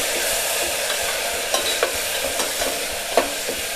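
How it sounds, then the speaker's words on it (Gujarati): Tomatoes stirred into a frying pan of pea and potato curry, a steady close sizzle with soft scraping stir strokes and a few sharp clinks of the spoon, no voices. "તો આવી રીતે આપણે ટમેટાને એમાં એડ કરી દઈશું"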